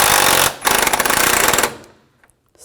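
An impact tool rattles as it tightens bolts on an Audi A4 cooling fan module, giving two loud, close, rapid hammering bursts separated by a short pause before the sound cuts off.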